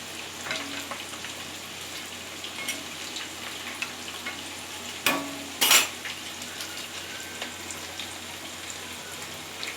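Dhoka lentil cakes fry in hot oil in a pan, a quiet, steady sizzle with faint crackles and two sharp clinks of a utensil partway through, with no voices.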